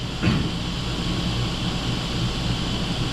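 An airplane in flight in a flight simulator game gives a steady, dense engine drone that holds at an even level throughout, with no talking.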